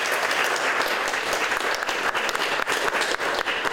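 Steady applause from an audience at a presentation event, dense continuous clapping filling the room at a strong, even level with no voices over it.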